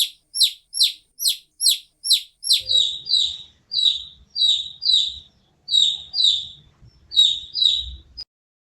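A chick cheeps in a run of sharp, high, evenly spaced peeps, about eight quick notes followed by a looser series of paired chirps, close and clear over near silence.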